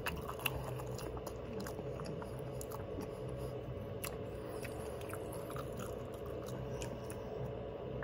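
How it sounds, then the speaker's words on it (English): Someone chews food close to the ear, with steady crunching and squishing bites running continuously under faint room noise, and no talking. "I'm trying to chew with this side of the mouth because I'm always chewing on this."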